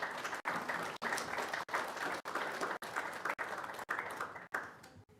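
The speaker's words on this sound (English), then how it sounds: "please give her a resounding round of applause" High school assembly audience giving steady applause for a guest speaker, a dense wash of many hands clapping at moderate distance with no talk over it.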